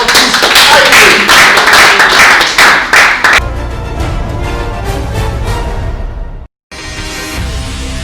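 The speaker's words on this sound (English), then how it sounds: "Round of applause for this" A studio audience on a house reality show claps loudly in dense, sharp bursts for about three seconds, then the sound shifts to a quieter, droning room noise with a short dropout near the end.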